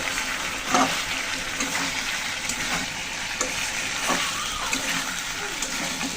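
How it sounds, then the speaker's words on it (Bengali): Pangas fish and potato pieces frying with spices in a pan, a continuous close sizzle broken by stirring scrapes and soft splatters. "মাছ তরকারি দিয়ে একসাথে আবার মশলার সাথে সুন্দর করে একটু কষিয়ে নেব"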